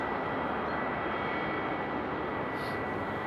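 Delta airliners taxiing at Amsterdam airport in the rain give a steady, broadband jet engine roar with rain hiss, continuous and moderately distant, with no talk over it.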